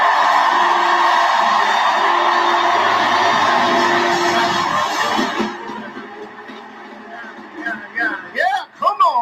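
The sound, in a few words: audience applause and cheering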